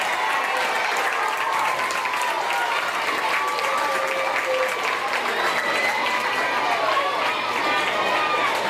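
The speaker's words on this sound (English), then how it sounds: "Give her a big round of applause." An elementary school assembly crowd gives steady, enthusiastic applause for a student, a full wash of clapping lasting several seconds with cheering voices and children's calls mixed in.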